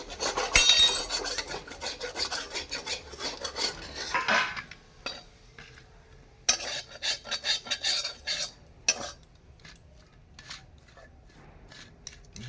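Cooked potato filling scraped and tipped out of a pan with a utensil, a run of close metallic scrapes and clatters, busy at first, then sparse taps and scrapes separated by quiet gaps.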